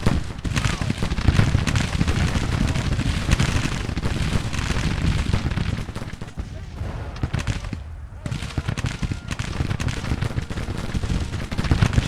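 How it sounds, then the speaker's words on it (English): Artillery and massed rifle fire in Grand Tactician: The Civil War at the 1864 Battle of Olustee, Florida: a dense, continuous roar of volleys and booming cannon, loud throughout with a brief lull near the end. "we do have artillery support hitting them, and several regiments firing in"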